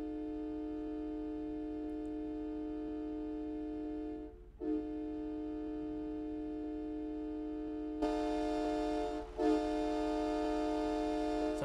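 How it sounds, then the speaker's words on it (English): A Freightliner truck's air horn in American Truck Simulator, sounding like a freight train: a long sustained multi-tone blast that dips briefly, then returns louder for a second sustained stretch, alone and steady. "I like the sound of this horn."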